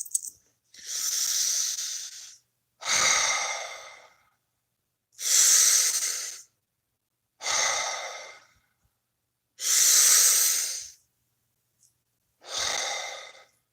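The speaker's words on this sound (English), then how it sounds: "Take a nice deep breath." Deep, slow breaths during a guided prayer: six long airy inhales and exhales, close and fairly soft, each lasting about a second or two and separated by quiet pauses.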